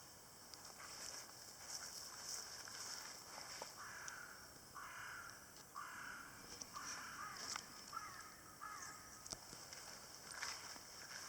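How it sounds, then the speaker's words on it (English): Crows caw repeatedly at a distance over a steady outdoor background hiss, several calls spaced across the clip. "Oh, the crows."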